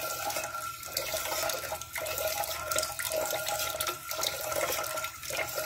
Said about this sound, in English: Take the lye water. You're going to slowly pour it in.